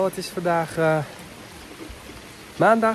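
Steady rain falls at a campsite near Bled and Bohinj in Slovenia, a continuous soft hiss heard around a caravan while a person talks over it in short phrases.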